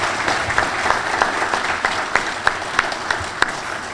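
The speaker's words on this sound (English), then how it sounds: "Let's give him a big round of applause." Warm audience applause at a law enforcement awards ceremony, a full, sustained clapping crowd with a few sharper individual claps standing out near the front.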